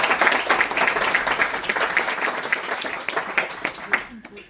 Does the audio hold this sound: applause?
yes